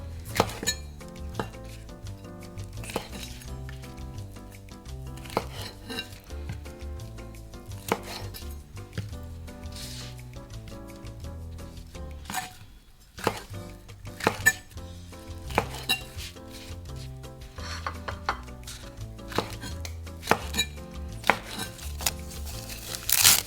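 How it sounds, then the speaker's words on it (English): A knife slices chikuwa, a Japanese fish-paste cake, diagonally into bite-sized pieces, giving a steady run of crisp, close cuts with a brief pause midway. "Start by slicing the chikuwa diagonally into bite-sized pieces."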